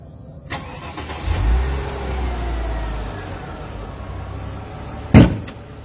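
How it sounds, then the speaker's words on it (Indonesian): Overhauled car engine cranks and fires up, then settles into a smooth, steady idle close by; a door-like thump lands near the end. "dengerin suara mesinnya sehalus apa"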